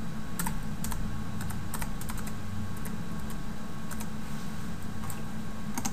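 A computer keyboard rattles with a steady run of close, crisp keystrokes in irregular clusters over constant low background hum.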